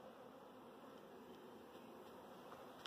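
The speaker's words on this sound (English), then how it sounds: "Thousands and thousands and thousands of bees" A large swarm of honey bees moving into a mobile home hums in a steady, faint, unbroken drone with no pauses and no talking.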